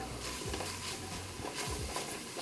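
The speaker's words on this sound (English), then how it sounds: "So we're just gonna saute these onions off." Chopped onions sauté in a pot with rendered pork fat for a pozole rojo soup, a soft continuous sizzle with faint stirring scrapes, low and steady throughout.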